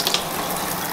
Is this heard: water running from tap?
yes